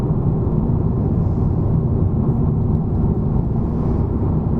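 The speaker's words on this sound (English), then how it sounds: "I'm in 6th gear and we're traveling at 2000 RPM." Honda Civic Type R in sixth gear at 2000 RPM, a constant low engine hum and road rumble inside the car, even and unbroken, with no voices.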